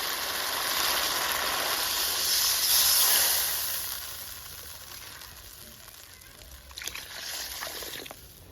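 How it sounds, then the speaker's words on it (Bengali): Water is poured into a pan of sautéed potatoes for a Bengali bata fish curry, a loud steady hiss and sizzle rising then settling into quieter bubbling, with a few faint clinks near the end. "এবারে আমি পরিমাণ মতো ঝোলে জল দিয়ে দিই।"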